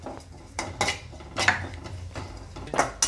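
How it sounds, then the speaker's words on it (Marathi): Grated coconut roasting in a pan for a modak curry spice mix, heard as a spoon scraping and clinking against the metal pan in irregular strokes, close and fairly quiet. "मोदकाच्या आमटीचा मसाला तयार करण्यासाठी प्रथम आपण खोबरं भाजून घेऊया।"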